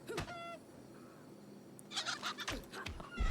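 A chicken in RuneScape Dragonwilds gives a few short clucks, faint and scattered among game sounds and footsteps, fairly close.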